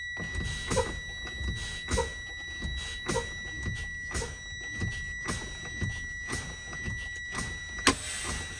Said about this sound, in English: I'm going to go ahead and pump the brakes to simulate a leak and wait for these 2 valves to pop out